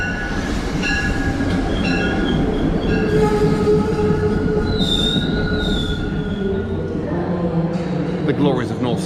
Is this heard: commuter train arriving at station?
yes